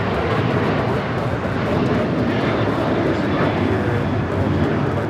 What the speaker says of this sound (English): This is Delta Airlines 2096 taking off to New Orleans on the 737-800.